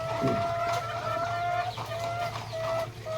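A breeder hen on a poultry farm clucks close by in repeated drawn-out calls, with other fowl faintly audible over a steady low background hum.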